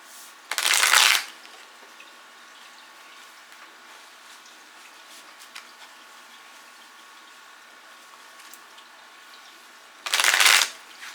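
A deck of tarot cards is riffled in two quick, crisp bursts about nine seconds apart, each lasting about a second, with near-silence between them.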